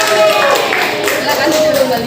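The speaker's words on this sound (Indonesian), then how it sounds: "tepuk tangan semuanya" Schoolchildren in a classroom clap together after a student presents a Scratch game or animation project. The clapping is steady and fairly loud, with voices mixed in throughout.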